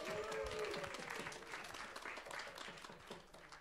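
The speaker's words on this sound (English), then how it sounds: "That clapping, for the most part, should be directed at Rabbi Lauren Holtzblatt" An audience at a scholar event claps together in a soft, fairly distant wash of applause that holds steady for several seconds, with faint murmuring mixed in.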